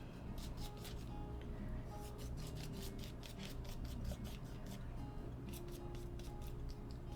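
Gesso being scraped across scrap paper in quick, rhythmic rasping strokes, close and steady throughout, with a dry scratchy texture.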